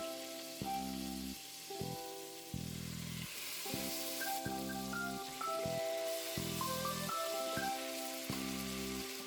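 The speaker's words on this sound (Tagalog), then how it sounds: "pagka na-melt na ang butter, atin nang ilagay ang salmon." Salmon sears in melted butter in a pan over medium heat, a steady fizzing sizzle with faint spattering pops running throughout, while a low tonal hum and brief clicks sit beneath it.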